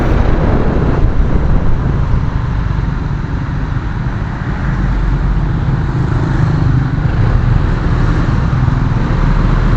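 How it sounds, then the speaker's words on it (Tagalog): Motor tricycles and street traffic in the town of Bontoc: a loud, continuous engine and road roar with rough wind buffeting on the microphone, holding steady throughout without clear breaks. "Daming tricycle."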